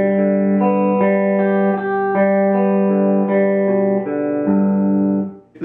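Electric guitar picks a steady string-skipping alternate-picking run up to the high E and back down to the low E, each note clear and evenly spaced, played alone with no talking.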